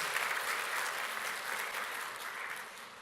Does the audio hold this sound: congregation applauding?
yes